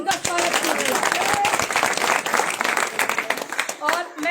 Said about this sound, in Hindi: तालियों से उनका स्वागत कीजिए।